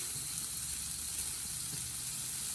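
Shrimp and bacon-wrapped pineapple on a grill, sizzling with a steady bright hiss and faint crackles, close and continuous, with no voices.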